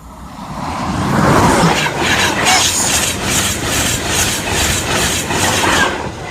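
A Class 91 electric train passes the Oster Fen level crossing in Nottinghamshire, a loud close rush of wheels and rail noise with a rhythmic clickety-clack that builds quickly and holds steady throughout.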